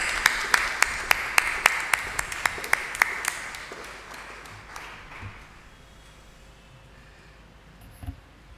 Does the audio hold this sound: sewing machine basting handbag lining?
no